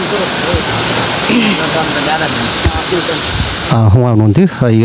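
Water pouring steadily from the spout of a drinking-water tank, a loud continuous rushing wash with someone talking over it near the end.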